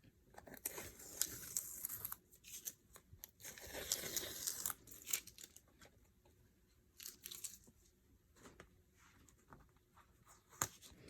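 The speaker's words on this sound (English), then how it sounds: "now we're going to peel all of these up" Washi tape being gently peeled up from thin bible pages, giving close, faint crackling and papery tearing rustles in irregular bursts with short lulls.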